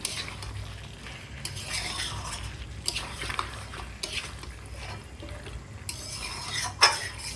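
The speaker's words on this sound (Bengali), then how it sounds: "মাংসের তেল বেরিয়ে গেছে তো আরও কিছুক্ষণ আমি কষিয়ে নিই" Meat browning in oil in a wok-style kadai, cooked down for a potato meat curry, sizzles at a moderate level under repeated stirring scrapes, ending with a sharp metallic clink, no voices.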